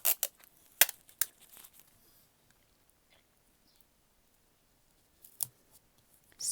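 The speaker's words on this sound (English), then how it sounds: "And then just a little bit of sellotape actually" Sellotape handled up close for a steampunk journal: sharp snips and crisp tearing clicks in short bursts at the start and near the end, separated by near silence.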